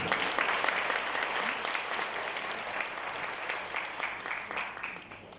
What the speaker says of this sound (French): Nous pouvons tous vous applaudir pour ce cheminement avec Brain Active et L'Oréal Professionnel